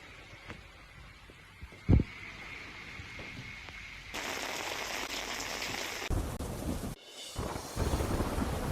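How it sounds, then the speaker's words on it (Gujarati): Heavy monsoon rain pours down steadily in Raval village, Gujarat, a dense hiss that grows louder and fuller midway, with a brief sharp thump early on and no voices. "રાવલ ગામમાં ધોધમાર વરસાદ પડ્યો"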